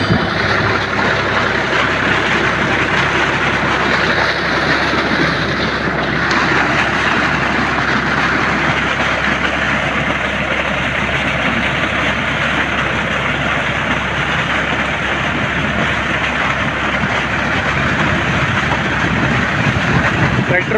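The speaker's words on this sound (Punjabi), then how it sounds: "ਟਰੈਕਟਰ ਬਿਲਕੁਲ ਹੀ ਆਰਾਮ ਨਾਲ ਚੱਲ ਰਿਹਾ ਜੀ" A Mahindra 265 DI tractor engine runs steadily while it drives a water pump, giving a continuous loud drone with a broad rushing, hissing layer over the whole stretch.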